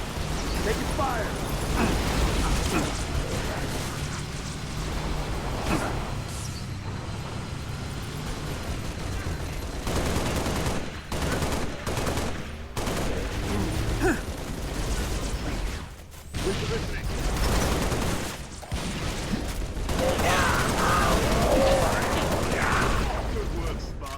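Sustained gunfire in the Halo Reach video game, with dense automatic bursts and heavy impacts over a rumbling battle backdrop, broken by brief pauses, as voices speak intermittently.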